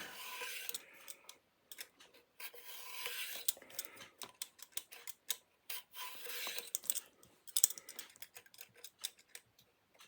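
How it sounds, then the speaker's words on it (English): A sharp hand peeler scrapes fruit in quick, irregular strokes, close and fairly quiet, with brief pauses between passes and no talking. "I have two peelers. This one's a little bit sharper. It takes a little more flesh off, but it gets the job done quicker."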